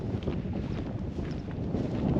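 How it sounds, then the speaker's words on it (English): Strong wind buffets the microphone on the hilltop of Ingra Tor on Dartmoor, a steady, loud rumbling roar that swells slightly toward the end, with no talking. "it is bloody windy today."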